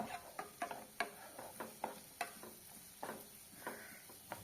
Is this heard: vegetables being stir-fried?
yes